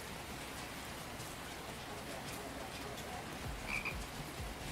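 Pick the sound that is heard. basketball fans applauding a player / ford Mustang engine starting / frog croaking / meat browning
frog croaking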